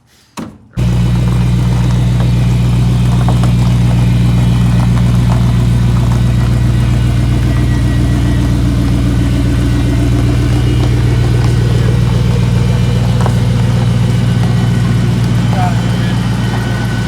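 A supercharged 1955 Chevy engine starts and runs at a steady, loud idle close by, a deep continuous rumble holding for the rest of the stretch.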